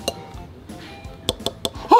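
A golf club head tapped to test whether it is genuine carbon or a fake metal copy: a few sharp, bright clinks, one early and three in quick succession near the end, in a quiet room.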